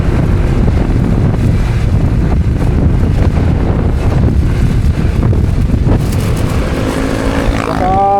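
Strong wind buffets the microphone continuously on a night boat trip between Cavite and Batangas, a loud, steady roar with engine and water noise beneath and a faint voice near the end.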